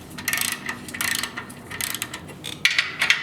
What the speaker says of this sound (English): remove these two bolts here. And we're going to use a 15mm bolt for this